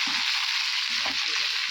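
Curry leaves and coriander sizzle in hot ghee for a tempering, giving a constant bright crackling hiss close up, with faint stirring thumps underneath.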